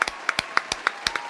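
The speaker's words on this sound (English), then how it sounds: "I'm going to clap for that. I'm clapping for that." Sharp hand claps, about eight in an uneven quick run over a second or so, close and crisp with no talking.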